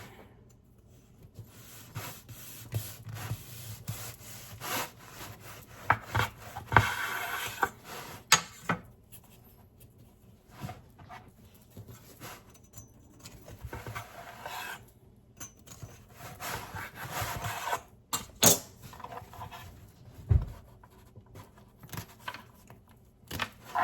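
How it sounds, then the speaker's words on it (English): A knife saws through a crusty cheese sourdough boule, with repeated rasping, scraping strokes of varying loudness and irregular rhythm, close up, interspersed with brief pauses and small knocks. "There's the bread. Let's try and cut one."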